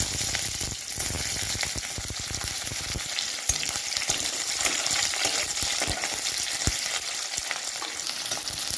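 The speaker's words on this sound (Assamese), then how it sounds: "পিয়াজখিনি অকমান ভাজি লৈছো।" Onions sizzle in hot oil alongside dried red chillies for an Assamese tomato and fish curry, a steady close crackle broken by sharp clicks and scrapes as a spoon stirs the pan.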